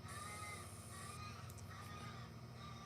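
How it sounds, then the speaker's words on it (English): A crow caws outdoors at night, its calls faint and distant against a steady hum of background noise, with no talking. "You hear that crow?"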